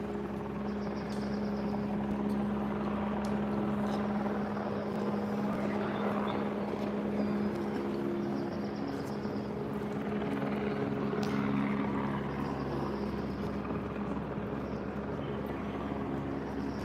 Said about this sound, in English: if you are somewhere near campus and you are hearing a chopper, it is an LAPD chopper right near Alumni Park